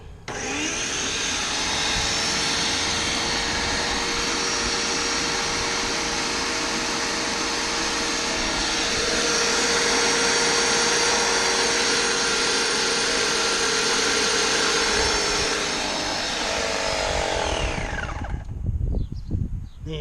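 A Graco paint sprayer priming, its motor and pump running as a loud, steady whine and hiss for most of the stretch, then cutting off near the end into scattered clatter.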